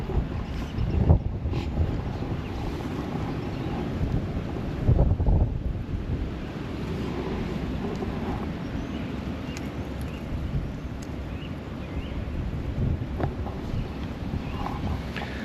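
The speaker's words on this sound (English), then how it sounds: "I am hanging in this parking lot, watching the wind go by" Steady wind blows across an open parking lot at a woodland camp, a continuous broadband rush with buffeting gusts striking the microphone, strongest around the first and fifth seconds, with no voices.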